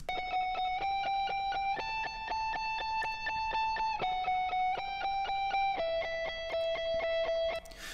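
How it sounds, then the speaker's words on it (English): A doubled high lead electric guitar line plays a slow melody of sustained, clean-toned single notes, each held about a second and changing pitch in steps, steady and moderately quiet without any voices. "And then finally, I have this sort of completely different high lead part."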